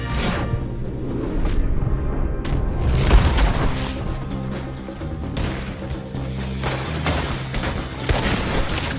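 Dense gunfire in Red Dead Redemption 2 cracks and booms in rapid overlapping volleys during a shootout, loud and near, with crashes between shots and little talk.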